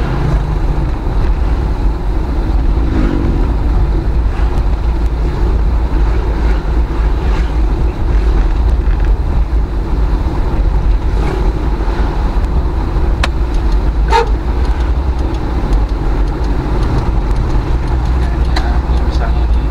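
Car driving on a road while overtaking, a continuous low engine and road rumble with wind noise throughout, heard from inside the cabin.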